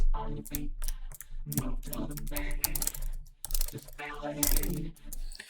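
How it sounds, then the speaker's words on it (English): Plastic keys on a MIDI keyboard clack and tap in an irregular run of presses, close and moderately loud, with a voice and tonal sound at times underneath. "I'm just pressing different notes on the keyboard, but holding one."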